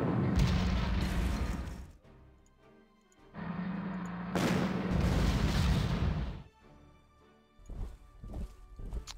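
Artillery fire in the wargame Panzer Corps lands as heavy, booming blasts, several loud rumbling impacts in quick succession with short gaps of near silence between, then a few softer thuds at the end.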